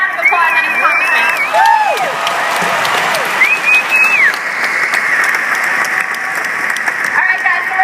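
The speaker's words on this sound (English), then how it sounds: "give Ed a big round of applause on his accomplishment" An audience claps loudly and continuously in warm applause with some cheering and whistles mixed in, the sound staying full and even throughout.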